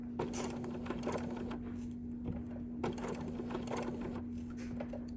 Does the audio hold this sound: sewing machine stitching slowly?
yes